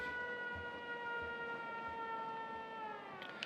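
Settlement alarm siren in the Fallout 4 video game, a steady sustained wail that holds its pitch, loud and continuous throughout, with faint low thumps underneath.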